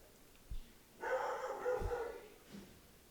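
Dogs bark softly and faintly, a short yip, then a longer whining bark run and a final low woof, heard alone without any talking.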